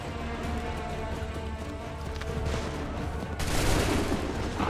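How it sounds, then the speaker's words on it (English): Musket volley fire in the video game Assassin's Creed 3, during the Lexington battle: a dense, continuous crackle of many shots merges into a roar and swells into a louder burst near the end. "Hold fire! Open fire."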